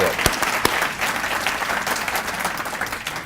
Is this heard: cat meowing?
no